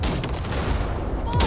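Ship-mounted weapon fire blasting floating wrecks in the video game Cyberpunk 2077, a loud sustained roar of heavy shots and rumbling blasts, ending with a sharper burst.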